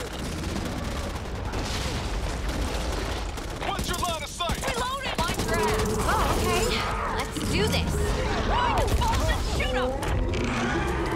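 Back 4 Blood gunfire, rapid bursts of shots and mechanical clatter overlapping continuously, with voices talking over the action.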